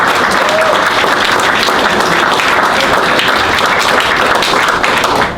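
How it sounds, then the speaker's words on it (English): An audience at a Science on Tap evening talk about Swan Lake fisheries claps in steady, dense applause that stays loud and even for several seconds before tapering off at the end. "Let's give Leo a round of applause."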